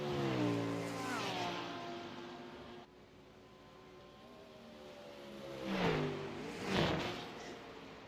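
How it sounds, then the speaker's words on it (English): A Porsche race car speeds through Eau Rouge at Spa, its high engine note sliding downward as it passes. After a lull, further engine surges swell in the distance, with no talk over them. "Look how much faster the Porsche is through Eau Rouge."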